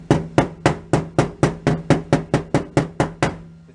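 A hammer taps sheet metal in a quick, even series of about fourteen sharp strikes, close and loud, fitting a rusted VW Beetle floor panel down to the body.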